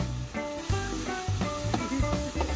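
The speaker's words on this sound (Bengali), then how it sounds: "এখন শুরু হয়েছে মাংস রান্না করছে সৈকত এবং বাঁধন" Meat frying in a pan while two people cook at a canal-side outing, a steady sizzle with intermittent stirring and scraping scuffs, fairly close and without talk.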